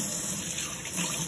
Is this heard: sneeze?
no